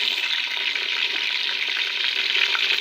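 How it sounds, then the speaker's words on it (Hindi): Chicken pieces fry in very hot ghee in a cooking pot, giving a steady, loud, close sizzle that carries on without a break and without any talking over it. "देखिए गर्म घी में, तेज़ गर्म घी में मैंने चिकन डाला है ताकि टूटे ना और अच्छे से ये फ्राई हो जाए"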